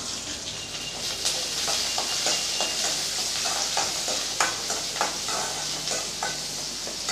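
Small onions sauté in a pan with a bright, crackling sizzle, punctuated by repeated scraping and stirring strokes from a spoon.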